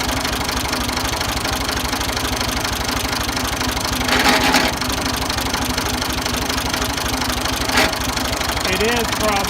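A Ford 2000 diesel tractor engine idles roughly with a steady, loud, close knocking chug, and a person speaks briefly over it.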